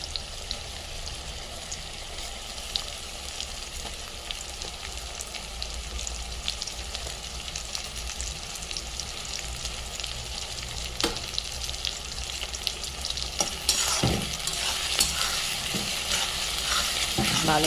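Onion and tomato fry in a pan for a cauliflower curry, giving a steady close sizzle with occasional stirring scrapes that grow busier near the end. No one speaks.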